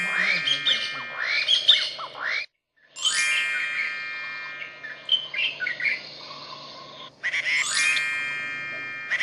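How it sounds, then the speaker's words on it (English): Recorded bird calls: bright chirps, tweets and squawks from several birds, repeating in bursts with a brief silent gap, over faint background hiss. "Helpers use special equipment to collect bird sounds."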